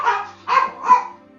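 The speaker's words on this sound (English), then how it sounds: "my dogs are barking" Three short barks from pet dogs in quick succession, loud and close, with no talk over them.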